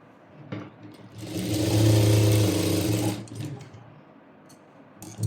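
Sewing machine stitching the shoulder seam of a kurti: one short, steady burst of whirring lasting about two seconds, close by, with quiet handling before and after.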